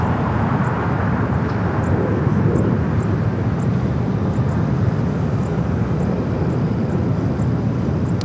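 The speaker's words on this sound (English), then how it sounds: "Hawaiian 33, the A330 now finally cleared for takeoff." A Hawaiian Airlines Airbus A330 taking off at Los Angeles International Airport: a steady, loud, broadband jet roar that holds without a break for the whole stretch.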